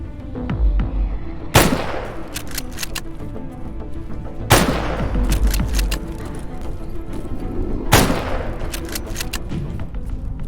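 Full-auto PP-19 Bison gunfire in the video game S.T.A.L.K.E.R.: GAMMA, three sharp loud bursts spaced a few seconds apart, with a low rumbling ambience between them.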